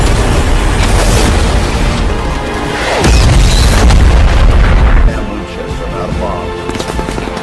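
A loud explosive boom from a drone-launched missile bursts out amid dense rumbling battle noise, with rapid gunfire-like crackles and a voice underneath.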